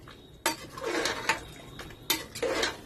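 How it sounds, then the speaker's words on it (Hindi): Mutton korma is stirred and fried in a metal pot, with a spoon scraping and clanking against the sides in several sharp knocks over a soft, close, continuous sizzle. "बीच बीच में हम चलाते रहेंगे। चलिए भूनते हैं इसको।"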